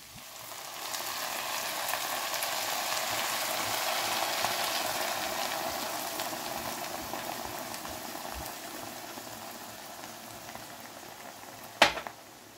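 A beer sauce with rosemary simmering in a pan, a steady, soft bubbling and sizzling hiss that runs evenly throughout, with one sharp clink of a utensil near the end.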